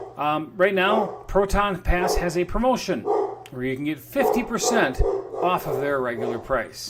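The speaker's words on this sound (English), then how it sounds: "If you can hear my dog in the background, he's probably barking at the mailman right now." A dog barks repeatedly in the background, somewhat distant, under a man's continuous speech.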